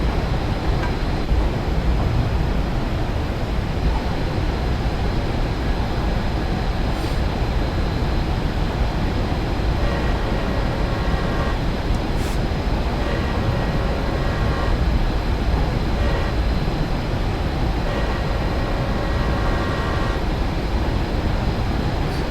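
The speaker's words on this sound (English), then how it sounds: "See you later, homebound train." A Union Pacific GTEL gas turbine locomotive runs on Sherman Hill in a train simulator game, a steady loud rumbling roar with a constant high whine and faint periodic clicks, unbroken throughout.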